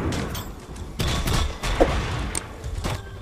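Gunfire hitting a mech in the Iron Harvest strategy game, a string of sharp cracks and dull impacts spaced roughly half a second apart, moderately loud with no talking.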